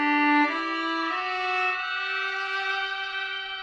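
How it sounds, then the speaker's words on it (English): Violin run through a Solar 42 synthesizer's 'magic' effect, a few smooth sustained notes stepping downward with a shimmering, processed harmonic tone, close and alone. "I'm going to play something on the violin and see what it sounds like."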